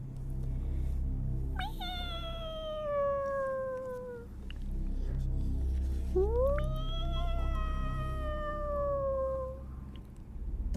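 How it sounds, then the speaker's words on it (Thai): A cat meows twice in a ghost story narration, each a long, drawn-out, falling wail over a low steady background hum, with no speech. "ได้ยินเสียงแมวร้องขึ้นมาอีกครั้งหนึ่ง"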